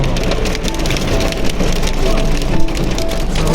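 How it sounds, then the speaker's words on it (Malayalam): Hail pelts down in Jubail, Saudi Arabia, a loud dense clatter of ice striking hard surfaces nearby, steady and unbroken throughout. "ആലിപ്പഴം വരുന്നു"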